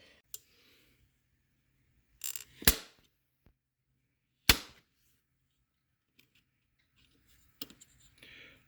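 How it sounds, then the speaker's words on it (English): Plastic trim clips snapping into the door cladding of a Mercedes W126 300SD: a few sharp, isolated clicks and snaps spaced apart, with quiet pauses between them and no talk. "Put the clip in first and then put the trim on the clip."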